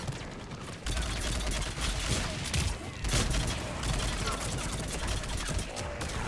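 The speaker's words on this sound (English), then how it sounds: "This is a really good assault rifle." Rapid assault rifle fire in the video game Mass Effect 3, in dense loud bursts with brief gaps, mixed with combat effects and a voice talking underneath.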